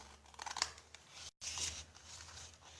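Scissors snip down both sides of the corner tabs on a shadow box, several sharp close cuts in quick succession with a brief pause between.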